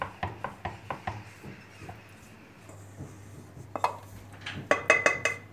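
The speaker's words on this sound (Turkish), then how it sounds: "Şimdi burada da bir 5 dakika tava soğuyana kadar unu karıştırmaya devam edeceğim." Flour is stirred in a hot pan while it cools after dry roasting, with a metal utensil scraping and clinking against the pan in irregular knocks, quiet at first and louder toward the end, no talking.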